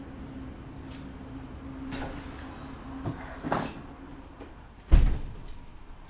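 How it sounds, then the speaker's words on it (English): A door pushed shut indoors, landing as one sharp thud near the end after a few softer knocks and shuffles over a quiet room hum. "let me go close the door because it's getting loud"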